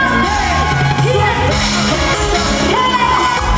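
A crowd of girls shouting and whooping at a party. Loud, continuous cheering yells overlap over a steady background of music.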